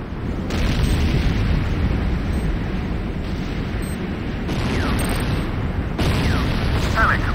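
Rumbling C4 detonations and sustained explosive booms in the Command & Conquer game Renegade, loud and continuous with sharp bursts layered over heavy battle noise, with an announcer voice heard amid the chaos.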